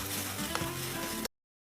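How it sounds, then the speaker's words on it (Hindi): Chana dal is stirred with salt and pickle in a hot pot, giving a close, brief sizzle with scraping stirring sounds that lasts just over a second before cutting off. "इसको मिक्स करेंगे खूब अच्छी तरीके से।"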